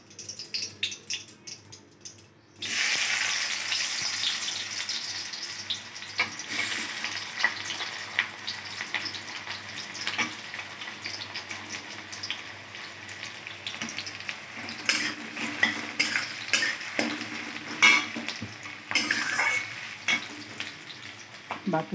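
Sliced onions drop into hot oil seasoned with bay leaf and dried red chili, bursting into a loud, steady sizzle after a quiet start, with intermittent stirring scrapes and clatter throughout.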